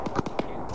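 Several quick sharp bursts from frag grenades exploding over a wall in the Arma 3 military video game, a rapid cluster of three or four close, loud cracks within under a second.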